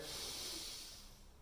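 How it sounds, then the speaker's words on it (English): A person takes one deep, breathy inhale while bracing during a core exercise, a close, hissing rush of air that fades over about a second, with no speech. "Deep breath in."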